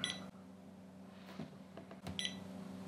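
Short electronic beeps from an Acaia Pearl Model S coffee scale as its power button is held to switch modes, one at the start and another about two seconds later, close and clear over quiet room tone.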